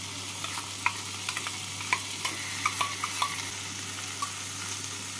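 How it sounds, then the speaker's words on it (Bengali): Prawn filling frying with potatoes in a pan gives a steady sizzle, with scattered clicks and scrapes from stirring throughout. "পুরটা দিয়ে ভালো করে আলুর সাথে ভেজে নেব"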